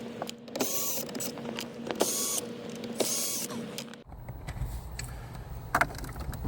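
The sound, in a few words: unscrewing four Torx T20 screws behind Jaguar F-Type screen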